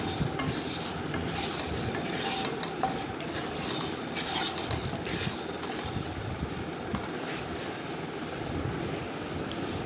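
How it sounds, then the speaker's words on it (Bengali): Potatoes frying in a pan are stirred, with a dense, steady sizzle and soft scraping of the spatula, close and fairly loud throughout with no voices. "আলুটা আবার একটু নাড়াচাড়া করে দিচ্ছি"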